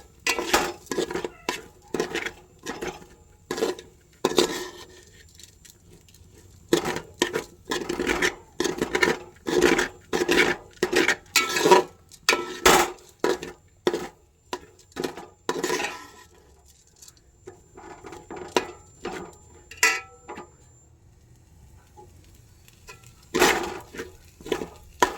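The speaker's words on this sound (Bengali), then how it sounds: "চালটা আমি হালকা ভেজে নেব।" Raw rice for payesh is stirred and lightly fried in a pan, a close scraping rasp of spoon against metal and grains in repeated strokes, pausing now and then before resuming.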